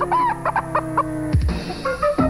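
A chicken clucks in a beer commercial, a loud, close series of choppy clucks and a squawk in an uneven rhythm, with no voices over it.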